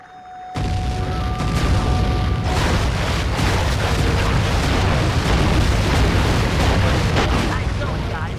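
Repeated cannon shots fired from a boat in the Sly 3 video game on PS2, a dense barrage of loud booming blasts with crackling debris, continuous and close throughout after a brief quiet start.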